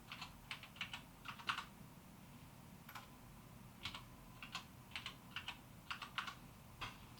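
Computer keyboard typing during setup of a password: bursts of crisp, close key clicks in short irregular clusters, separated by brief pauses, over a low steady hum.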